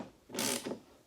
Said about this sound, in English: I'm going to use my socket wrench